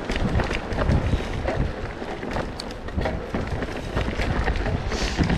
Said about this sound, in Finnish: Aika kova tuuli täällä